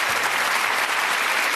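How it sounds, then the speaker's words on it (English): A studio audience on the Bullseye game show gives a brief, loud burst of applause, a thick, continuous roar of many hands clapping. "Give them a round of applause."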